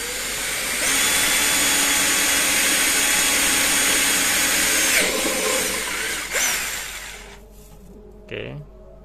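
A power drill bores steadily and loudly for about seven seconds at close range, its whine tapering off near the end as a brief voice speaks.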